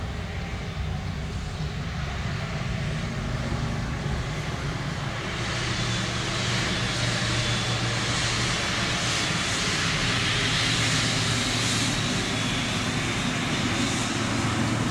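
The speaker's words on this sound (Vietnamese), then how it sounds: "Và bây giờ máy bay đang giảm tốc trên đường băng 25 phải." A Korean Air Cargo Boeing 737F rolls down runway 25R at Tan Son Nhat after landing, a steady loud roar of decelerating engines with broadband rushing noise that swells slightly midway, heard alone.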